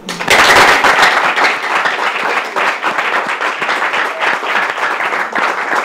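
An audience at the final of a talent competition claps loudly and steadily for a sponsor, a dense burst that starts sharply and carries on for several seconds with little speech.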